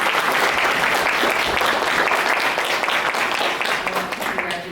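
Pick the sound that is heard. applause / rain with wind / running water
applause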